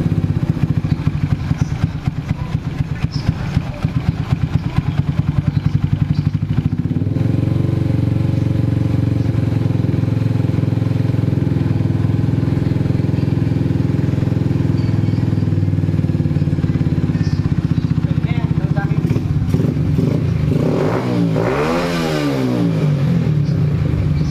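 The engine of a Rusi TC Macho 125 motorcycle fitted with Keihin flat-slide carbs runs close by, with a loud, rough, steady idle and a rattling start. Near the end it revs up and down in a few quick throttle blips.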